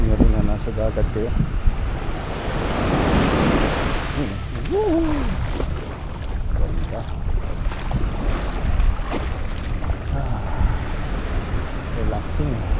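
Sea waves and wind on a beach in Mexico, a steady broad wash of surf and wind rush that continues without a break, with faint voices in the background.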